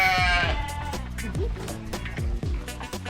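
Goats bleating and calling repeatedly in a petting zoo area at a safari park, close and loud, overlapping with one another and mixed with sheep-like bleats and faint background voices.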